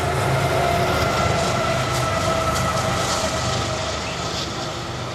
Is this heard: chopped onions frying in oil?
no